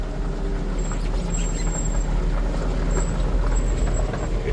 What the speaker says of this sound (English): The big bus is rolling out for the morning.